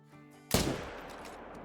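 A hunting rifle fires once in the hunting game Call of the Wild, a single sharp loud crack after a quiet moment, trailing off into a fading echo.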